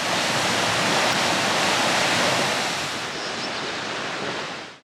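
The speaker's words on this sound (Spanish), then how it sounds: "Se oye el agua y es una pasada." A river waterfall at the Salto de la Novia near Navajas, Castellón, pours in a steady, dense roar that stays full and close throughout, easing slightly toward the end with no voices.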